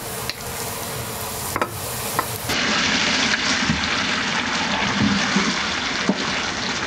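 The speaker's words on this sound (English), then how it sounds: "here's the time to add the meat into the onion and just saute that" Lamb meat sautés with onion in a pot for lamb stew with green beans, with light stirring and clatter at first and then a fuller, continuous sizzle with occasional soft pops.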